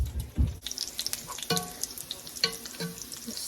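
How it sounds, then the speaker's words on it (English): Frozen broccoli seasoned with pepper sizzles in a lightly oiled skillet, with a steady crackling fry broken by several sharp clatters and scrapes of stirring up close. "Saute this up just a little."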